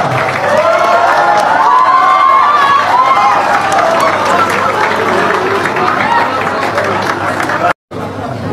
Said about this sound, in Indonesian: Sekali lagi mana tepuk tangannya teman-teman semua.